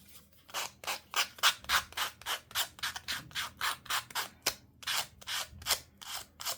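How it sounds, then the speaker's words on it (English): Rapid scratchy rubbing strokes, like paper edges being sanded or roughed up, repeating in a steady rhythm of about two to three per second, close by. "I'm just gonna get rid of the edges there, rough them up a bit."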